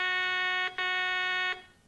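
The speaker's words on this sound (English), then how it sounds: "The source of metal that sounded the alarm must always be found" A Garrett Magnascanner CS500 walk-through metal detector alarm gives a steady electronic tone with rich harmonics, loud and close, breaks off briefly once, then resumes before cutting out.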